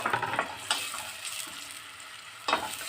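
Dried squash sautéing in a pan, a steady soft sizzle with stirring scrapes and a few brief louder clatters, close by and with no talk.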